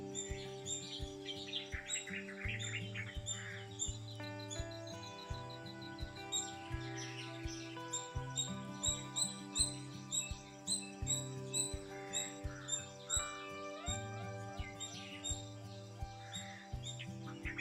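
Resplendent quetzal, a Central American trogon, gives a long series of chirps and tweeting calls, some rising, fairly faint and distant, with steady low tonal hum and other birdsong in the background.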